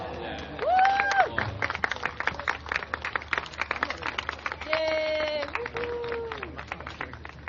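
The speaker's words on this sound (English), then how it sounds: "A warm round of applause for all our candidates." An outdoor election rally crowd in Tanjong Pagar applauds the candidates, a steady wash of clapping under a voice over a loudspeaker, with cheers and shouts rising above it.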